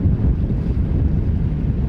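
Wind and river current rushing around a sailboat entering a river on a singlehanded voyage to New Zealand, a loud continuous low roar of wind buffeting the microphone with water noise underneath, no speech.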